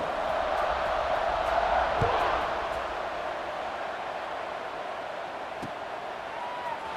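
Football stadium crowd noise before kickoff of an SMU Mustangs versus Jacksonville State Gamecocks college game, a steady broad roar with rising cheers and whoops, loud and continuous throughout.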